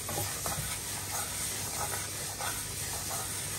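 Mung beans roast in two pans at once for a big 25 kg Pongal cooking, making a steady dry hiss and sizzle with faint scraping stirs scattered through it.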